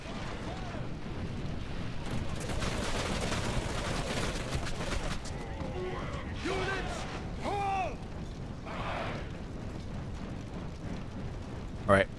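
Massed musket volleys crackle across a battlefield in the strategy game LOTR Remastered, a dense, sustained rumble of distant gunfire with a voice talking over it and a sharper report near the end.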